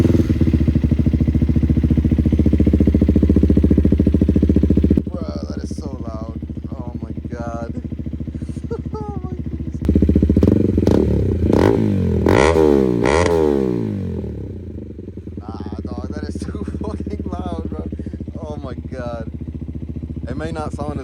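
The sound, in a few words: KTM Duke 250 motorcycle engine starting and revving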